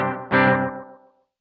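A single distorted guitar note through a Gokko Dripping GK-22 analog delay pedal set to very short repeats is struck and smeared by rapid, closely spaced repeats that blur into a reverb-like wash before fading out.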